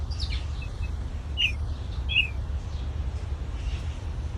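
A bird sings outdoors in the morning, giving a few brief, bright chirps at a distance over a steady low rumble of background noise.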